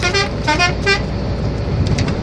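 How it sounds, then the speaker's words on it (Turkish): A truck horn sounds three short toots in quick succession over a low road rumble, then traffic noise continues. "Tabii bir korna çalayım."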